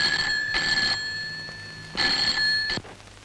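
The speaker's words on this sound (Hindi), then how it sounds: "हाँ है डॉक्टर साहब, आपका टेलीफोन है।" An old telephone bell rings indoors in two bursts of rapid trilling, each about a second long with a pause between, fairly close and clear, the second ring cut off abruptly.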